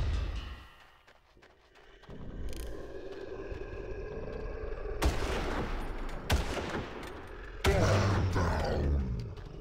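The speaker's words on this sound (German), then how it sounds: "Der schießt jetzt einfach auf gut Glück." Far Cry gunfire, apparently from a volcano setting, comes as sharp, loud reports, three heavy shots standing out after a quieter stretch of rumbling background.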